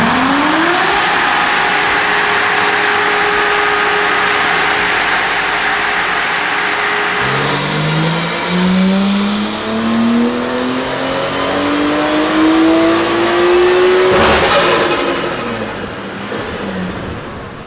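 A turbocharged RB25 Neo engine in a car strapped to a dyno revs loud and close, climbing in pitch through a long sustained pull, easing off briefly, then winding up hard again before cutting back near the end.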